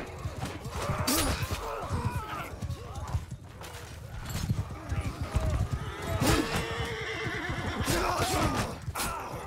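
A horse neighs and whinnies amid clip-clopping hooves and battle clatter during a multiplayer siege in Mount and Blade II: Bannerlord, with repeated loud whinnies over continuous noise.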